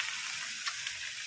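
Potato and onion fritters frying in a pan give a quiet, steady sizzle with faint crackles and a few brief pops, and no voices are heard over it.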